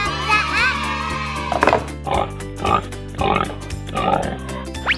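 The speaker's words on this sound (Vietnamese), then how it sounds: "Con heo, pig, vật nuôi." A pig oinks in a few short grunting bursts, close and fairly loud, with a voice speaking at the start and music or background tones running underneath.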